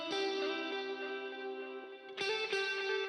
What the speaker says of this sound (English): We have a lot more electric guitars enter the mix